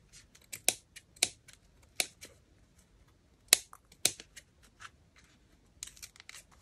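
Scissors snip through paper scraps for a small collage pad, crisp close cuts arriving in irregular bursts of one or two with quiet pauses between them.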